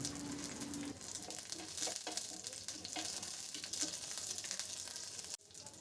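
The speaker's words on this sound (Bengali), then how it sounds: "তেলটা সামান্য গরম হলেই কালো সর্ষে ফোড়ন দিলাম আর দেব কাঁচা লঙ্কা। এগুলো হালকা তেলে একটু ভেজে নেব।" Black mustard seeds and green chilies frying in hot mustard oil give a steady, close sizzle with light crackles, then the sound drops off abruptly near the end.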